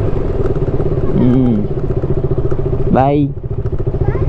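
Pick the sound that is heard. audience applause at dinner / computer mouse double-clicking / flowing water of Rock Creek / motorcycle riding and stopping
motorcycle riding and stopping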